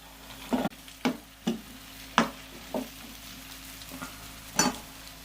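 Onions, chillies and tomato frying in a pan, with a low sizzle under a series of sharp stirring knocks and scrapes spaced about half a second to a second apart, close by.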